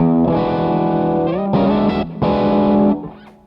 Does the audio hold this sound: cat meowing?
no